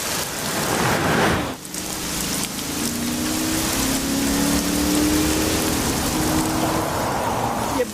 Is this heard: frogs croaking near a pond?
no